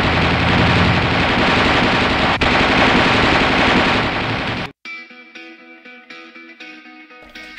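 Machine gun fire from an M551 Sheridan tank: a loud, dense, sustained burst lasts several seconds, then cuts off abruptly into a quieter stretch of other sound with echo.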